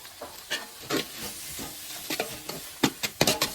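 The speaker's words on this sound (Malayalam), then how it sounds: "നല്ല കട്ട് ചെയ്ത തക്കാളി ഇതിലേക്ക് തട്ടുന്നു" Five chopped tomatoes hiss and sizzle in a hot frying pan while a utensil scrapes and stirs them in irregular strokes, close and fairly soft, with no talking.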